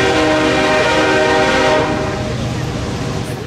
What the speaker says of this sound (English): We just heard the train a minute ago go through.